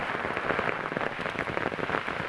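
Heavy monsoon rain falling in a village, a dense, loud, continuous patter of drops hammering surfaces close by with no pauses and no voices.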